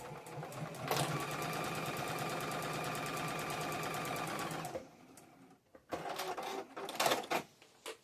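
A sewing machine stitches a quilt seam for a Halloween quilt-along block in one continuous, fast rattling run of about five seconds, then stops, leaving a few scattered clicks and handling noises.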